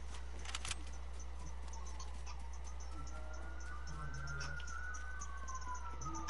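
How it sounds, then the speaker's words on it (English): Police car sirens sound inside a video game, a rising and falling wail held faintly through the clip over a steady low hum, with a brief jangle near the start and no talk. "Why am I only hearing the sirens on your side?"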